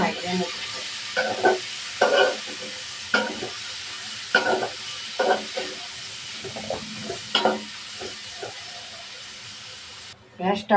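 Shrimp and chopped onion fry in a pan for a shrimp and taro-stem curry, with a soft steady sizzle broken by repeated rhythmic stirring scrapes, close and fairly quiet.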